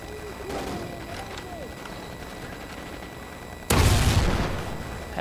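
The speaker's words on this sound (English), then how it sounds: "I killed him with a fucking grenade." A grenade detonates in Call of Duty: Ghosts during a hardcore Kill Confirmed match on the Whiteout map, a sudden loud burst late in the clip that decays over a second, following faint in-game noise.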